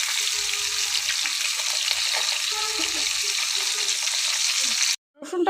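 Koi fish frying in hot oil in a pan, a loud, dense, continuous sizzle close up with faint background clatter, cutting off abruptly near the end before resuming briefly.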